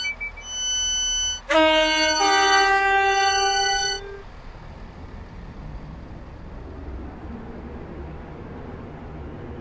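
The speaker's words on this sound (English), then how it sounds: "This train is formed of four coaches." A four-coach passenger train runs with a steady, noisy rumble. It begins with a low hum, then a bright multi-tone chime or horn rings for about two seconds before the running noise continues alone.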